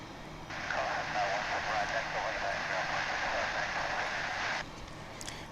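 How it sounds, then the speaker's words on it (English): An Embraer 175 airliner on approach to land at DFW airport, heard as a steady broadband roar that holds at constant loudness for about four seconds and then cuts off, leaving faint background noise. "American Eagle Flight 3926, which will be touching down from Corpus Christi on the Texas Gulf Coast."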